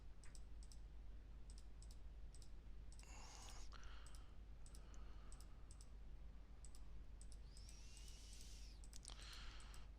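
Mouse buttons click quietly and sparsely while a curve tool traces a rough mouth shape in 3D modeling software, the soft taps spread irregularly over a low steady hum with no talk.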